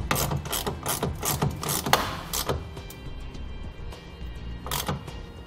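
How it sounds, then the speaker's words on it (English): Ratchet tightening a clamp on a BAKFlip FiberMax hard tonneau cover on a 2018 Chevrolet Colorado truck bed, a burst of rapid clicking strokes followed by a quieter pause and a final click. "And start tightening it down."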